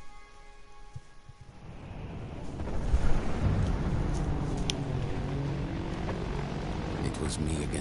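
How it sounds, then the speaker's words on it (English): Aircraft engine drone from an enemy bomber squad, a steady low rumble that swells and holds, with a voice talking over it. "An entire enemy bomber squad."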